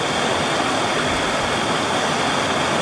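Creek water rushes in a steady, loud, broadband wash with no breaks, a close, continuous flowing hiss and roar.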